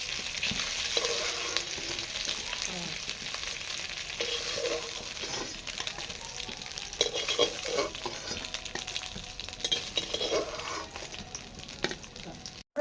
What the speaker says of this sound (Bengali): এগুলোর মতন এগুলাও ভেজে নিচ্ছি